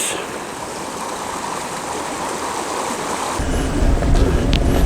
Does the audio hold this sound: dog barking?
no